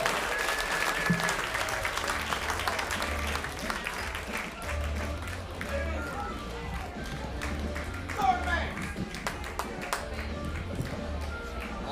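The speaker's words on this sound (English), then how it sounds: "How about a big round of applause for Eric Murda?" A comedy club audience in Sarasota applauds steadily for a stand-up comedian, dense clapping and some cheers filling the room throughout, with a host's voice over it.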